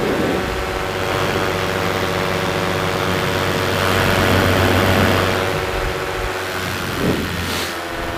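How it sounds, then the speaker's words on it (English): A light aircraft's piston engine run up toward full throttle drones steadily and loudly, a constant buzzing roar with a slight swell midway, with no voices over it. "I'm interested to see what it sounds like with this full throttle"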